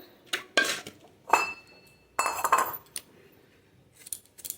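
Bitter gourd being sliced into rounds with a knife, giving a run of sharp, close clicking and clinking knife strikes in irregular bursts, with quiet gaps between them.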